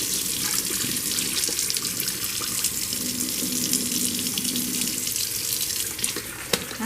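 Tap water runs steadily into a sink as rice is rinsed in a bowl for jollof rice, a continuous close splashing flow lasting the whole stretch with no talking.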